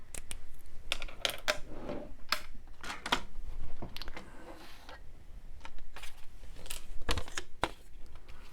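Scissors snip through Amazon packaging material in a series of sharp, close cuts, irregular bursts of crisp snipping and rustling with brief pauses between strokes.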